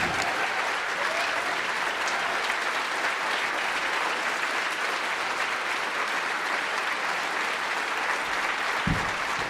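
Sustained audience applause fills a large hall at an International SA (Sexaholics Anonymous) convention in Newark, New Jersey, a dense, steady clapping that holds evenly throughout with no voices over it.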